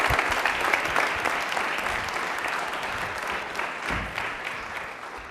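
Studio audience at a televised quiz show applauds a contestant's correct answer, a thick, continuous wash of clapping that holds steady and then eases slightly toward the end.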